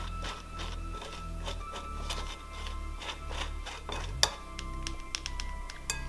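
Almond flour is worked through a metal sifter, producing irregular light taps, clinks and scraping rattles of the mesh over a soft background hum, with one sharper knock partway through and no talking.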